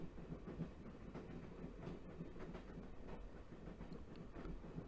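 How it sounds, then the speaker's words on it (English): A passenger train clatters along its rails in the Broken Sword adventure game, a faint, steady clickety-clack rhythm rolling on without any speech. "I haven't seen a train like this in a long time."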